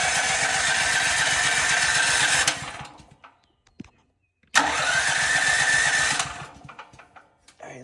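A 12,000 watt Pulsar backup generator is started twice, each time cranking and firing into a loud, rough engine run for a couple of seconds before cutting out, with a brief silent gap between attempts.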